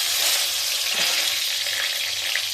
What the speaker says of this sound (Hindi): और उलट पलट के 2 मिनट फ्राई करेंगे, ज़्यादा नहीं, क्योंकि ये तो बैंगन हमारा पका हुआ है।